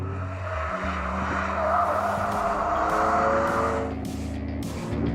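A BMW M4 GTS launches from a start on a race track, its engine roaring loudly and climbing through the revs, with tire noise, then easing as it shifts near the end.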